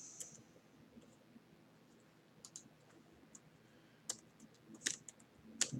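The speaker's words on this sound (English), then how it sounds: "I'm going to see if I can type in the accent markers here" Quiet, sparse clicks of keys being typed on a computer keyboard, scattered irregular taps that grow a little more frequent toward the end against a low background hum, with no talking.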